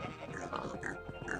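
A pig oinks and grunts in a TerraFarmaCraft Minecraft modpack farm, several short snorting game sounds in quick succession over quiet background music.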